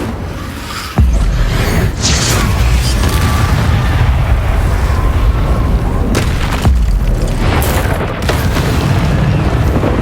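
An Incendio fire spell cast in Hogwarts Legacy bursts with a loud boom, followed by a roaring, crackling rush of flame and further impacts, all fairly close and without talk.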